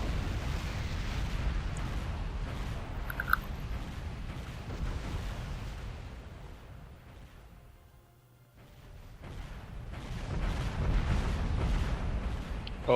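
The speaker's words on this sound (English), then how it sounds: "Oh, so many explosions." Space battle explosions from the video game Sins: Fall of Kobol, a continuous rumbling barrage of booms and blasts that briefly thins out before swelling again, fairly distant and muffled, with no talk.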